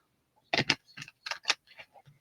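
Large oversized tarot cards being shuffled by hand, giving a quick run of soft papery slaps and rustles, a few dense bursts close up with no talking.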